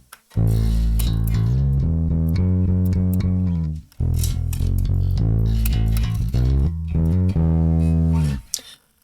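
A clean bass signal processed through amp models on an iRig BlueBoard and Raspberry Pi plays a steady line of sustained notes, loud and upfront, with one brief break midway and no voices.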